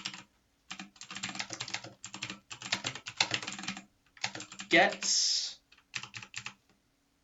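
Bursts of rapid clicking on a computer keyboard come close up while a website's code is entered, broken by short pauses, with a brief spoken word and a soft breathy noise near the end.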